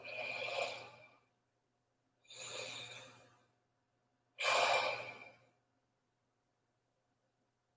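Three slow, deep breaths during a guided meditation before taekwondo practice, each a long airy exhale about a second long, close and quiet, separated by silent pauses.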